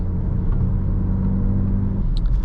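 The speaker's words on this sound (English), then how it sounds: "You hear a lot more engine than some other SUVs out there." Supercharged 3.0-litre engine of a 2018 Jaguar F-PACE SUV drones steadily from inside the cabin, a deep continuous rumble with no talking.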